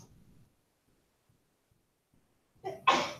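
A single sharp sneeze bursts out after near silence in a classroom, loud and close, preceded by a faint murmur.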